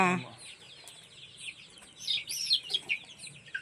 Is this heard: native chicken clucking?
yes